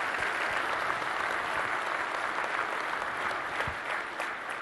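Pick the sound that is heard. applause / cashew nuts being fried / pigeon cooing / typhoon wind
applause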